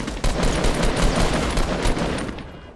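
Rapid automatic gunfire in a duo shooter video game, loud and dense bursts of shots rattling in quick succession for a few seconds before tapering off, with no talk over it.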